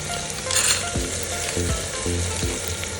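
Rice fries with turmeric and biryani masala in a hot pan, sending up a loud continuous sizzle under repeated scraping strokes of a spoon stirring the grains, about four in a steady rhythm.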